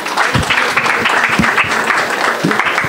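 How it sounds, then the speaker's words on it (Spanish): Loud applause from an audience at a presentation on ecological legislation welcomes a speaker, many hands clapping in a dense burst with a few sharp, close claps standing out. "ahora recibamos con un fuerte aplauso al doctor Luis Manuel Mejía Ortiz"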